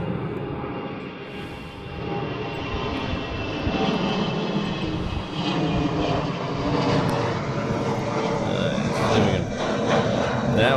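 A large airliner passing at a Hawaii airport during A380 plane spotting, a loud continuous roar of jet engines that stays strong and builds slightly toward the end, with voices faintly under it.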